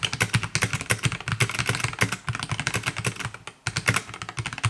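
Rapid clacking keystrokes on an Epomaker MC66 mechanical keyboard with hot-swappable switches and PC/OEM-profile keycaps, close and steady, with a brief pause near the end before the typing resumes.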